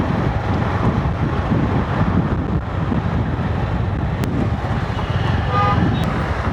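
Strong wind buffets the microphone while a Tata Nexon 2021 is driven, making a loud continuous rumbling roar with road and traffic noise beneath it and a faint toot near the end.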